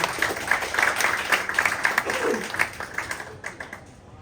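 Audience applause at a startup pitch session, a steady wash of many hands clapping through the whole stretch, with a brief voice surfacing partway through.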